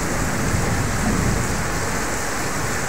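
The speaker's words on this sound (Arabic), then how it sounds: "ها سمعتوا الرعود؟" Steady rain pours down during a storm in Béjaïa, Algeria, a dense continuous hiss with faint low rumbles of distant thunder beneath, no talking.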